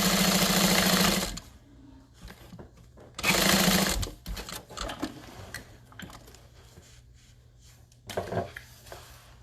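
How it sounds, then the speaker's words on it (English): A sewing machine stitches a half-inch seam on a tote bag in loud whirring bursts, two longer runs followed later by a short one, with quiet handling pauses between. "So we're gonna do a 1/2 inch seam starting from here."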